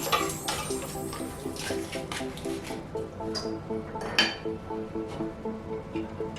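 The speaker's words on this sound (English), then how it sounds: "Alright, we'll give a quick stir." Oha soup in a pot being given a quick stir with a utensil after salt and a stock cube go in, producing scraping, clinking pot-and-spoon sounds with faint bubbling, close and steady, no talk.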